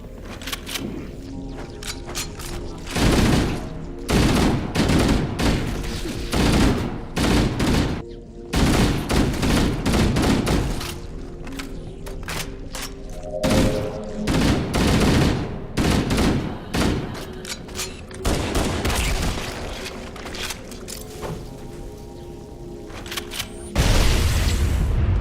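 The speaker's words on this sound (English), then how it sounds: "And so I just take them out with a pistol." Pistol gunfire against Flood combat forms in Halo Anniversary on The Library mission, with repeated sharp shots and heavy booms in rapid bursts over a dense, loud battle din.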